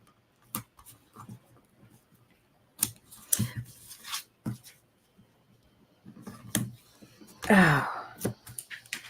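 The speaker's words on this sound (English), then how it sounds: "Let me put some tape on here." Adhesive tape is pulled off and pressed onto paper for a travel journal kit, in several short crackling bursts, the longest and loudest near the end, close and otherwise quiet.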